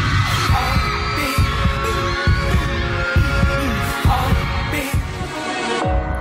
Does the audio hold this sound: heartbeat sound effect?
yes